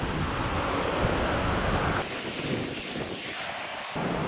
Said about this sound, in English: All the water's flowing down the side, down to the creek.